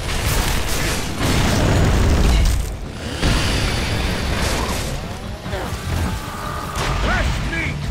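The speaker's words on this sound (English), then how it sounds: "Throwing frag!" A frag grenade explodes in Gears of War: Judgment with a loud deep boom and rumble, surrounded by mechanical clatter and battle noise, while voices shout nearby.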